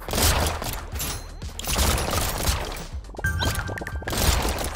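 Rapid nonstop gunfire from sniper weapons in the arcade game Brotato, a dense loud clatter of overlapping shots and impact crashes with little pause throughout.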